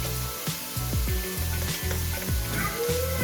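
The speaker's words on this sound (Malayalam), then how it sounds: "സവാള വഴറ്റിക്കൊണ്ടിരിക്കുമ്പോൾ നമ്മൾ ചതച്ച് വെച്ചിരിക്കുന്ന കൊച്ചുള്ളി" Onions and crushed shallots sizzle in a hot pan while being sautéed for a chicken dum biryani, a steady close frying hiss broken by repeated scraping stirs.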